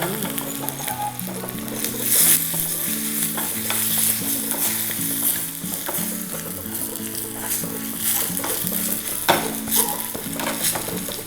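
Dry chillies sizzle and crackle in hot oil close up as a tempering, with stirring scrapes across the pan and a steady low hum underneath.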